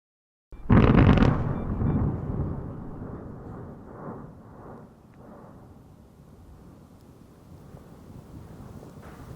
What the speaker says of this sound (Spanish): Erupción estrambólica nocturna.